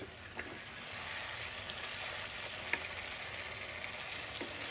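Chicken curry in an Indian-style Begum dish being stirred in a pan, with a steady soft sizzle of oil and scattered light scrapes and taps of the spoon, close and quiet.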